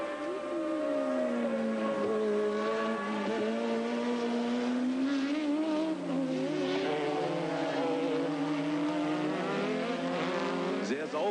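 Renault Formula 1 cars at the 1983 German Grand Prix, their high engine whine sweeping up and down through gear changes, loud and continuous with a second car's tone overlapping, under a commentator's voice.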